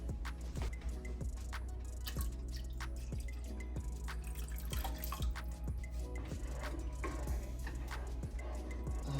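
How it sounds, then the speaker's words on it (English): Water poured into a thick Ghanaian peanut butter soup in a pot to thin it, heard as a steady run of close dripping, splashing plinks with a low kitchen hum underneath and no talking. "We'll add a little more water as well."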